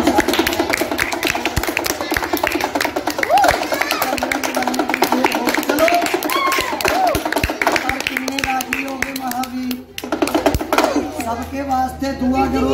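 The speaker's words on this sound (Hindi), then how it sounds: "एक बारी और चलो ताली बजा दो" Groups of children clap their hands in quick irregular bursts at a lively home gathering, loud and close, mixed with chatter and an adult's voice.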